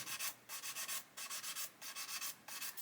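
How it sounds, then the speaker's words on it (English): Rhythmic sanding on a plastic model aircraft fuselage with a sanding stick, quick scratchy strokes repeating steadily in short bursts, close and fairly quiet. "with the sanding stick just come in and sand away"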